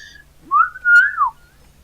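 A person imitates a ship's whistle with a mouth whistle: a short rising note, then a longer sliding tone that swells and falls away, close and clear with nothing else around it.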